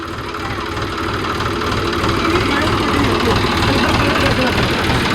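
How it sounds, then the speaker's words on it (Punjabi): A tractor engine idling nearby on a paddy farm during spraying, a loud steady low chugging rhythm throughout, with voices faintly underneath. "ਟਰੈਕਟਰ"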